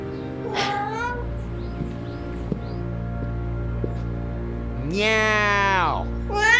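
A cat meows several times, a short cry early on and a longer, louder drawn-out wail near the end, over a steady low hum with a few soft knocks in between.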